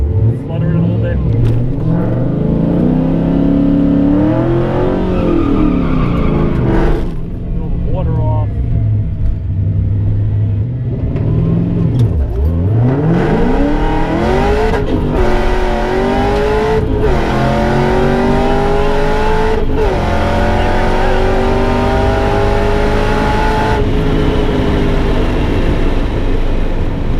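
A race car accelerates hard around a track during a track day, its engine loud and close as it revs up through the gears with repeated rising sweeps broken by sharp shift cuts, with a voice talking over it.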